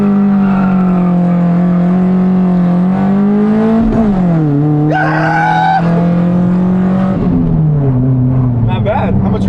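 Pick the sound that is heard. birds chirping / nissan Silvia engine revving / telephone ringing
nissan Silvia engine revving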